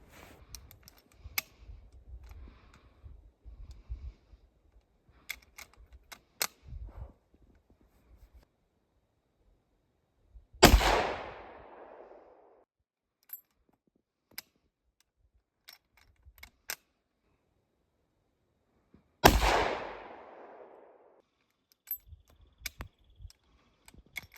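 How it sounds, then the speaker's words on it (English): Two loud, sharp hunting-rifle shots ring out about eight seconds apart while sighting in a deer rifle, each with a decaying echo, amid quiet clicks and small handling noises outdoors. "let's do these last 3 shots here"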